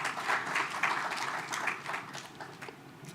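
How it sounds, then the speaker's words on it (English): Applause from the audience at a national health financing dialogue in Rwanda, a steady wash of many hands clapping for about three seconds, moderately loud and gradually easing off, with no speech over it. "Round of applause."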